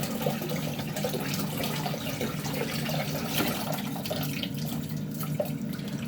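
Shredded cabbage rinsed under a running kitchen tap, a continuous splashing rush of water close by, steady throughout with no talk.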